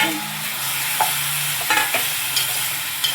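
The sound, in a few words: sautéing tomatoes in pan for tomato thokku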